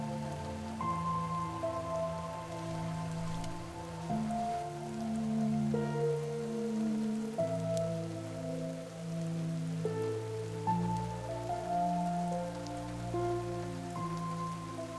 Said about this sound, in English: I can't see the other side of the lake because there's so much rain